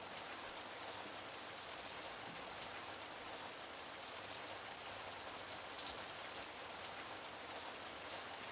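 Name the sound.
rain falling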